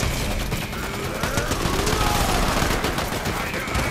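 Dense, continuous gunfire rattles loudly throughout, rapid shots overlapping in a steady barrage during a video game fight against NPCs before a boss.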